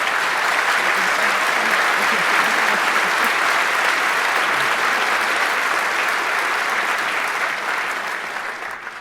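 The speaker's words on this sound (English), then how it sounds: "Round of applause for Fabs and Sky T." An audience at a conference keynote applauds in a large hall, a dense, sustained roar of clapping that holds steady and begins to fade toward the end.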